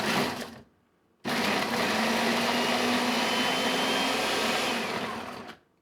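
A Goelunmy food processor whirs loudly and steadily while chopping onion, a short motor burst, a brief pause, then a longer sustained run of about four and a half seconds that cuts off abruptly.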